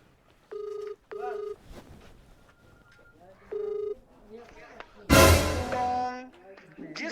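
Phone call being placed: short beeps of dialing and ringback tones sound in separate bursts, someone talks briefly between them, then a louder recorded voice message cuts in near the end.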